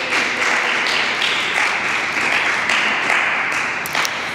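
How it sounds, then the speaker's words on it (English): An awards ceremony audience for essay, oratory, poster and performing arts competition entrants applauds in a dense, steady wash of clapping that stays even throughout. "please give them a round of applause"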